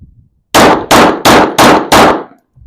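Five loud, sharp Sig 320 pistol shots fired in a quick, even rhythm, each with a short ringing tail, close to the shooter with no talking.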